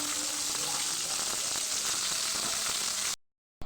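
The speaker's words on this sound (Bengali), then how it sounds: "তারপরে আমি পুরোটাকেই তেলের মধ্যে ছেড়ে দেব সবগুলো মাছ" Prawns frying in hot oil for an aloo chingri curry, a loud, dense and steady sizzle close by that runs for about three seconds and then cuts off abruptly.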